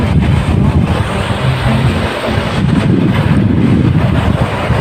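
A camera drone flies over a rock formation at Bolinao, Pangasinan, giving a loud, continuous buzzing whir mixed with wind rush, with no talk.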